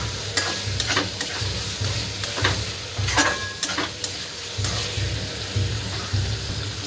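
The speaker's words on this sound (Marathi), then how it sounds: "मसाला पनीर टाकून घेतलेला आहे, मस्त तेल सुटलेलं आहे।" Paneer fries in oil with masala in a pan, a steady sizzle under repeated scraping stir strokes, near and fairly loud, with no talk.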